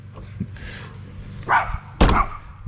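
Two or three short, sharp dog barks come at spaced moments, fairly close, over a quiet indoor background.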